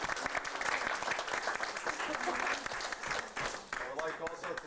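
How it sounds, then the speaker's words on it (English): A modest group at a Boy Scout troop covered-dish dinner claps for the parents and committee: fairly faint, uneven clapping with distinct individual claps, rising and dipping over several seconds. "I applaud you"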